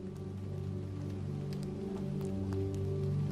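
Steady rain falls without pause, a soft even hiss with a low, constant hum running beneath it and no voices.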